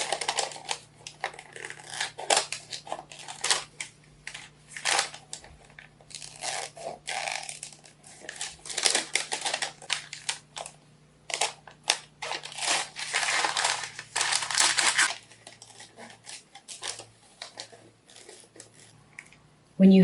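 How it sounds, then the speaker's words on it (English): Scissors snip and crunch through paper as shapes are cut for a jam jar candle holder, close and fairly steady in irregular bursts, with a quieter pause near the end. "We'll begin by cutting out the shapes."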